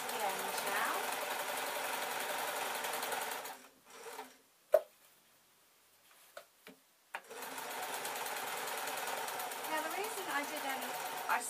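A sewing machine stitches a scarf with a loud, close, rapid mechanical chatter. It stops for a few seconds with only a couple of small clicks, then resumes its steady whir. Someone speaks nearby.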